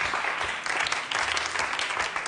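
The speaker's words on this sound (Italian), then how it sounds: "il pubblico applaude, è d'accordo con me" A television cooking show's studio audience applauds, dense steady clapping from many hands filling the whole stretch without a break.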